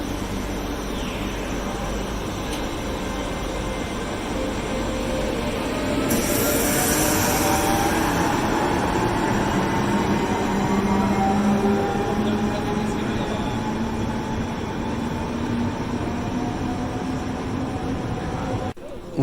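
A Portuguese CP electric train, a CP 2300 series three-phase suburban unit running up to 120 km/h, rolls steadily past for the whole stretch with loud, continuous wheel and rail rumble and occasional squeals, with a brief hiss partway through.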